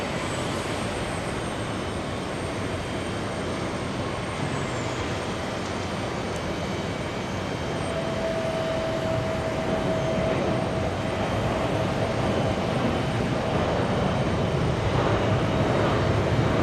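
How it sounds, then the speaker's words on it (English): Delta airliner on flight 78 to Prague at JFK airport, a steady distant engine roar that holds level and swells slightly toward the end, with no voices. "We have Delta 78. This time, it's flying to Prague."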